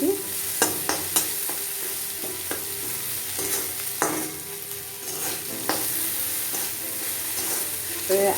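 Potatoes fry in a pan for a chhatu mushroom curry, with a steady sizzle broken by repeated scraping stirs and sharp clacks of a spatula against the pan, close and loud.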